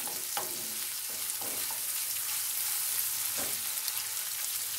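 Two chopped dry onions sauté in half a tea glass of oil in a pan, giving a soft continuous sizzle with a few spoon scrapes and stirring knocks.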